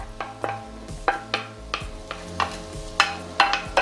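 Onions and garlic frying in a hot pan for stuffed squid, with steady sizzle under repeated stirring and scraping strokes at a brisk, uneven rhythm, close and moderately loud.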